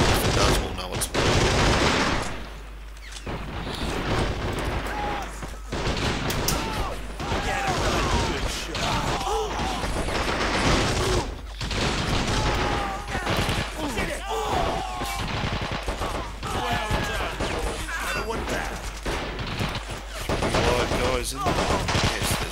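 Video game battle storming a flag point, with dense, continuous gunfire: rapid automatic bursts and overlapping shots, loud and close throughout, with talk mixed in.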